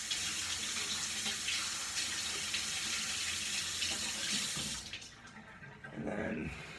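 Tap water pouring steadily into a sink while pennies are washed off, a close, full rushing hiss that breaks and splashes unevenly near the end as hands move under the stream.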